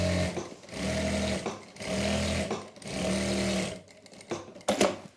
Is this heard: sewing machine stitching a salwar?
yes